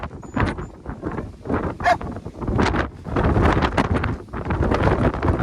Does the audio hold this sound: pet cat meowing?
no